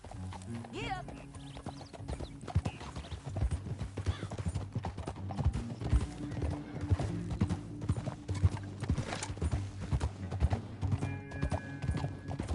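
A horse gallops in Red Dead Redemption 2, its hooves clip-clopping in a steady, fast rhythm throughout, with a brief whinny near the start and faint game ambience underneath.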